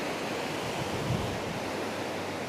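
Steady surf washing onto a beach in Zambales, a continuous even hiss of waves with no voices.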